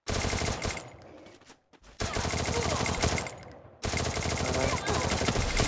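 Rapid bursts of automatic gunfire rattle loudly in two long volleys separated by a brief lull with quieter background noise.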